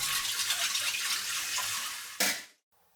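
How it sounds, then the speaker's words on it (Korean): Bagged clams are rinsed under a running tap, a steady broadband rush of water for about two seconds, then a brief louder splash before it cuts off to near silence. "봉지 바지락은 흐르는 물에 깨끗이 한번 씻어주면 되고요"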